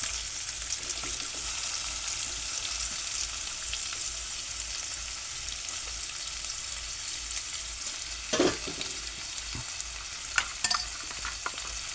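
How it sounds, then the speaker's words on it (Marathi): Onion and tomato frying in hot oil in a home kitchen pan, a steady low sizzle throughout with a couple of brief clinks from a utensil near the end. "कांदा टाकतो लगेच टोमॅटो पण मी लगेच टाकणार आहे"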